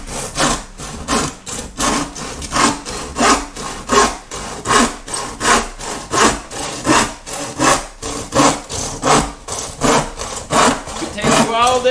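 Wood is cut by hand with steady back-and-forth rasping strokes, each one loud and close, repeating evenly for about twelve seconds.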